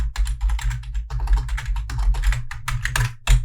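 Steady, close-up clatter of a computer keyboard as HTML form code is typed, quick bursts of keystrokes with short pauses between them over a low steady hum.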